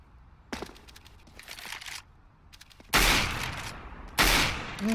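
Bursts of gunfire in a Counter-Strike match, several sharp clusters of shots followed by two loud, dense volleys, heard alone without talk.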